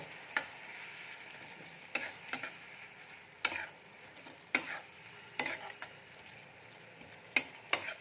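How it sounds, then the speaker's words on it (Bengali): Spice paste with Kashmiri chilli powder and turmeric powder being sautéed for potol chingri (pointed gourd with prawns): a faint steady sizzle broken by about eight sharp scraping stirs at irregular intervals, with no talking. "দিয়ে মশলাটা খুব ভালো করে কষিয়ে নেব"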